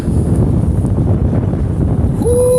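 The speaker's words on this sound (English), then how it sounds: "Ooh, it's windy." Strong, steady wind buffets the microphone outdoors during high-wind drone flying, a continuous low rumble with a rising motor whine cutting in near the end.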